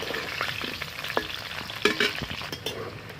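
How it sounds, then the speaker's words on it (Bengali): Potato pieces for a jackfruit dish frying in oil in a wok, a steady crackling sizzle with a few sharp spatters and stirring clinks, close and fairly loud, with no voices. "আমি ভেজে নেব এঁচড়ের আলু।"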